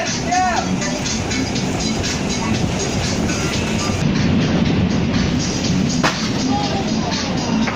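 A rumbling New York subway train ride into Manhattan with clattering wheels and a dense roar, with a sharp screech near the end and muffled voices mixed in.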